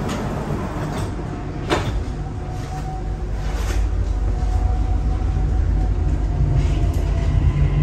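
A Dubai Metro Red Line train runs between stations, a loud steady rumble and roar of the carriage building gradually, with a sharp rattling clunk early on.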